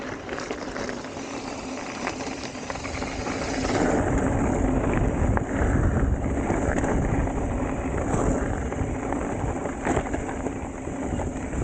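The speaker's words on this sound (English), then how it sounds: "I want to see how good the wind reduction is and how good you can hear me on the mic trying to talk over the wind" Steady, loud wind buffeting a helmet-mounted mic during a downhill bike ride, a continuous roaring rush that grows stronger partway through, with no clear voice above it.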